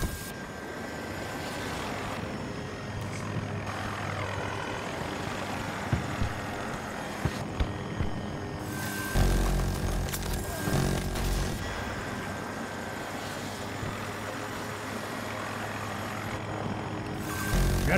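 A helicopter flies in the Battlefield 2042 video game, its steady rotor drone running throughout a busy game mix with a heavier burst of effects near the middle.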